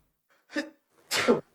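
A human sneeze: a short, soft intake of breath, a brief pause, then a sharp, explosive burst up close, alone with no talk.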